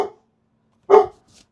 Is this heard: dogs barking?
yes